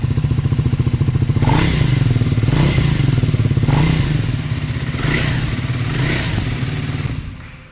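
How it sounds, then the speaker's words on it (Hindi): A Triumph Scrambler 400 X motorcycle idles and is revved close by, its exhaust note a loud, thumping, rapid pulse with several rising throttle blips spaced about a second apart before it cuts off. "तो ये थी एग्जॉस्ट नोट"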